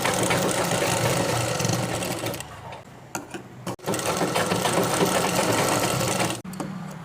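A sewing machine runs steadily while stitching the seam of a skirt, with a continuous close mechanical whir that pauses briefly twice before resuming.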